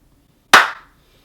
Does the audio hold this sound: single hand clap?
yes